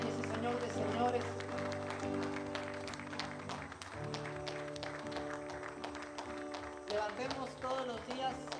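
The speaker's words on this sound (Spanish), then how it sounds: "Puedes dar un aplauso al Señor" A church congregation applauds throughout, dense steady clapping filling the room over sustained organ or keyboard chords, with voices calling out and talking beneath it.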